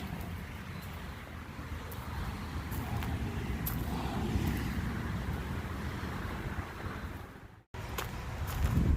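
A Jeep Cherokee with a 3.5-inch lift driving, its engine and road rumble steady and close with broadband wind and tire noise throughout, dropping out briefly near the end before resuming louder.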